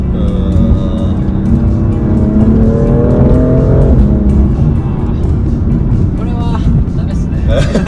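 A BMW F87 M2 Competition engine, tuned to about 700 horsepower, revs hard and climbs in pitch, droning loudly and continuously while people talk over it.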